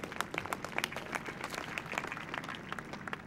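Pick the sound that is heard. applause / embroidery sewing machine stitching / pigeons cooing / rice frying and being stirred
applause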